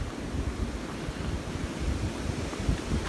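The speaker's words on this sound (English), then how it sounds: "Yeah, 60-mile-an-hour wind gusts." Strong outdoor wind gusts of around 60 mph roar and buffet the microphone in a constant, loud, low rumble with no voices.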